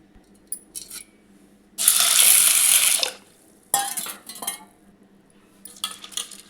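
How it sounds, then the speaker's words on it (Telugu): Chana dal and toor dal are rinsed in water in a bowl, heard as intermittent bursts of running and splashing water with light clinks of the vessel, close up and with no talking. "ఇవి రెండు కడిగి"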